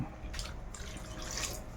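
A glass of water pours into a pan of adobo with whole peppercorns and a little oil, a short close splashing trickle.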